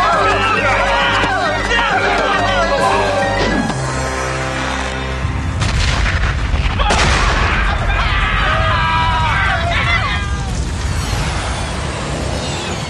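A sudden deep boom of an explosion inside a castle bursts through dense, churning music, followed by a rumbling, chaotic wash of noise and faint crowd commotion.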